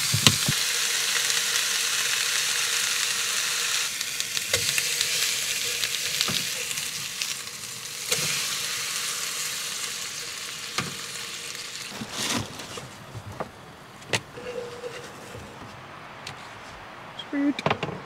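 Steady loud sizzle of thinly shaved steak frying for Philly cheesesteaks at an outdoor truck camp in the Black Hills National Forest, with occasional stirring knocks and scrapes, close and continuous.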